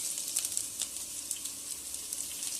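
Ginger frying in a pan for a homemade egg curry gives a steady, bright sizzle with small crackling pops, close and fairly loud, with no talking.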